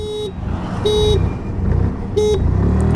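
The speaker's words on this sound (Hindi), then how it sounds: "will start with 3 horns" A 2026 Hero Destini 110 scooter horn sounds three short, loud toots with pauses between them, over a low engine idle.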